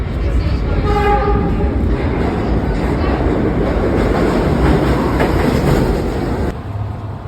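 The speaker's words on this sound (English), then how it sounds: "This downtown 1 train will not stop at this station." A downtown 1 train on the New York subway roars through a station without stopping, a loud continuous rumble of wheels and cars with a brief horn at the start, then abruptly fading.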